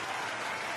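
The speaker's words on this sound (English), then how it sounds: "Let me do some clapping there from our artificial audience there." Canned audience applause sound effect, a dense steady wash of clapping that stays loud and even for under a second with no pauses.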